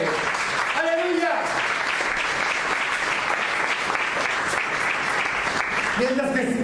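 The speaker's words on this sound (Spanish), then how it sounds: "denle una ofrenda de palmas a Él" A church congregation claps in steady, dense applause that fills the whole stretch, with a few voices calling out over it at the start and near the end.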